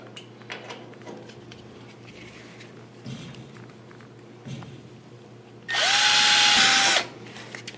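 A power drill bores a hole for a nut plate in a Piper Supercub floor or side panel, one loud sustained whine for about a second after quieter workshop handling sounds.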